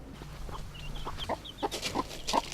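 Chickens cluck on a farm near Lusaka, Zambia, several close, short bursts of clucking and squawks over a low background hum, with no talk.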